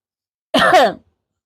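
A single sharp, close cough, loud and abrupt, with silence before and after.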